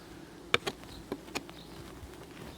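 Honey bees around a hive frame give a faint, low buzz under a few soft knocks and light clicks from handling the frame, with no voices.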